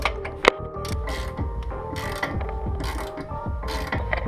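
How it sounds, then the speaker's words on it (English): A ratchet wrench clicks in quick repeated bursts while turning a rear camber arm bolt on a Mazdaspeed 3 during an SPC camber arm install, close and steady with faint metallic rattles between strokes. "My wrench is connected to it already."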